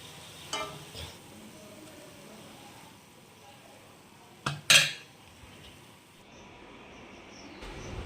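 Gulgula being cooked in a home kitchen while milk boils on another burner, with a few sharp metal utensil clinks and a brief pot clatter over a quiet, low background hum.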